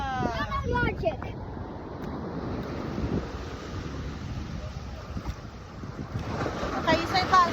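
Ocean surf washes steadily on Battle Rock Beach in Port Orford, Oregon, a broad constant roar with wind buffeting the microphone, while voices of children and adults talk over it at the start and end.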